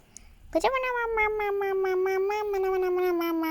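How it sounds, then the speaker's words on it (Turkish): A pet cat lets out one long, drawn-out meow that rises sharply and then holds a steady wavering tone for about three seconds, loud and close, with no talk over it. "bu da benim kedim Miçocuk"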